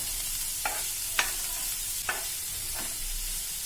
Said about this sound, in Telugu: ఇప్పుడు పైనుంచి కొద్దిగా 2 స్పూన్ల ఆయిల్ని కూడా యాడ్ చేసుకొని ఫ్రై చేసుకోవాలి